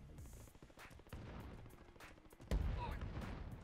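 Gunfire in Call of Duty Warzone Season 3 played on Xbox One: several sharp shots crack over a busy game mix, with a louder close burst about two-thirds through and a steady background din.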